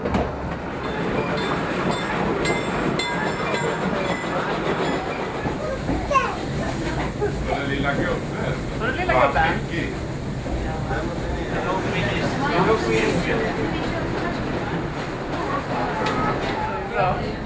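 A 1950s steam train climbs toward the highest point of the line, with steady rumble and rhythmic rail clatter heard from on board throughout, and voices talking over it.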